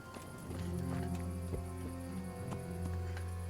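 Quick hoofbeats of a horse galloping in a video game, with a steady electronic hum and background drone underneath, fairly quiet.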